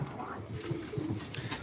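Pigeons cooing inside a breeder loft, soft low rhythmic coos repeating several times in close succession, with a light rustle of background noise.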